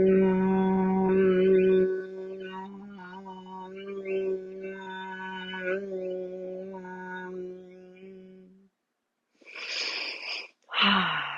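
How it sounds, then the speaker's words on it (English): A deep meditation exhale, voiced as a long steady droning hum that lasts around eight seconds, followed after a pause by a couple of loud, breathy airy breaths, close up with no talking. "Deep breath in."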